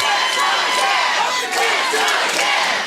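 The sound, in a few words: wrestling crowd cheering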